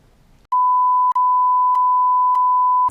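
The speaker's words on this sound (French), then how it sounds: "On va en mettre des bips dans la vidéo." A loud, steady electronic censor beep holds one pitch for more than two seconds, with faint clicks along it, then cuts off abruptly.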